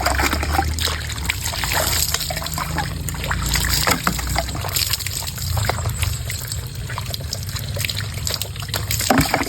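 Water trickling and splashing steadily as a bleaching scrub is rinsed off skin, a continuous close wet dribble with small splatters throughout.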